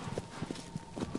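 Horse hooves clip-clopping at a run in the video game Shadow of the Colossus, a quick uneven patter of soft thuds over steady background game noise.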